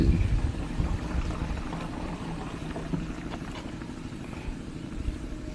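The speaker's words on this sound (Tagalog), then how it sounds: "Lakas angin mga idol." Strong wind buffets the microphone during a tuba (coconut wine) harvest, a low, rough, continuous rumble that holds at a fairly even loudness throughout with no voices.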